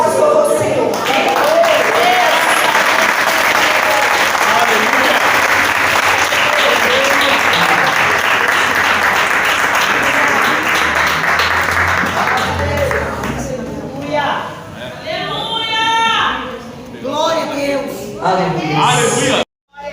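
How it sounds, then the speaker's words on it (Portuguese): A church congregation at a prayer-circle congress night service gives sustained, dense applause for about thirteen seconds. The clapping then thins out and fades as a voice begins speaking. "Palmas para o Senhor."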